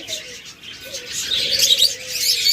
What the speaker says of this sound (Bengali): এটাও মিটিং করতেছে মিটিং কল দিচ্ছে